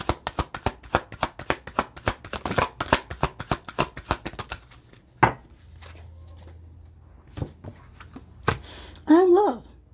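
Oracle cards are shuffled in quick, crisp riffling bursts for several seconds, then a few single card snaps as cards are drawn, with a voice briefly speaking at the end.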